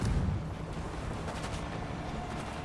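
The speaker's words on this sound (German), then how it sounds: "Okay, einmal möchte ich noch schießen." Gunfire in the zombie shooter World War Z: Aftermath, Jerusalem level, opening with a heavy shot burst and trailing into a continuous rumbling of distant, muffled shooting and game noise.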